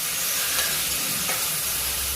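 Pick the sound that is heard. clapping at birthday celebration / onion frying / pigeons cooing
onion frying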